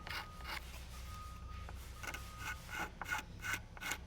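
A file rasps along the edge of a polyester-finished piano, cutting a chamfer in quick, close, fairly quiet strokes repeated in an uneven rhythm.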